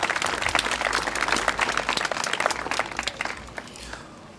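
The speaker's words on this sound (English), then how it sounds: "Let's give him a round of applause." A crowd applauds a councilmember at the reopening of the BREC Zoo. The clapping is steady and fairly close, holds for about four seconds, then thins out near the end.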